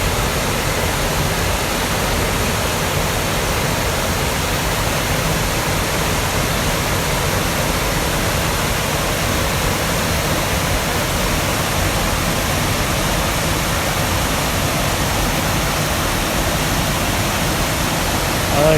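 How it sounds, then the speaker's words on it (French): Small waterfalls of the Cascade Fracabazz pour behind bushes, a steady, dense rushing hiss of falling water that stays even and unbroken throughout, close and fairly loud, with no voices. "derrière les buissons, il y a encore des petites chutes d'eau très sympathiques"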